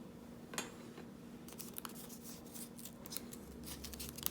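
Scissors cut through paper along a curved, rainbow-shaped line, soft snipping and sliding crunches coming close and quiet in an irregular rhythm.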